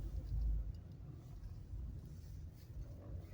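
A car drives along with a steady low engine rumble and road noise, constant and close, with light wind buffeting the microphone and no talking.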